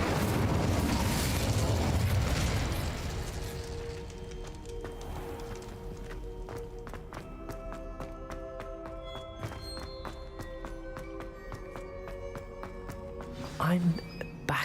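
An Incendio fire spell bursts loudly at the start in Hogwarts Legacy, a roaring whoosh and crackle that fades over a few seconds into quieter ambient music with soft tones and clicks.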